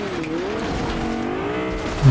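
Car engine in the Fortnite video game, a steady, close revving drone with shifting pitch held for the whole stretch, ending in a sudden louder thump.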